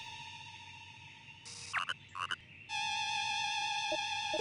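Synthesized frog croaks from the Genewars video game, a steady electronic croaking drone with layered tonal bands, interrupted midway by a few short chirping bursts before the loud croaking chorus resumes and holds steady.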